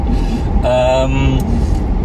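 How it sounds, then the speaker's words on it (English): A Mazda CX-5 drives past close by, a short rising and fading engine and tyre rush lasting about two seconds, fairly loud against steady road noise. "The CX-5 wasn't happy, so she's come back past me."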